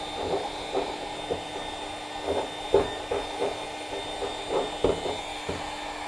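A heat gun runs with a steady, even whir while old Bondo body filler is softened and removed. Short, regular scraping bursts cut in close by, with no voices.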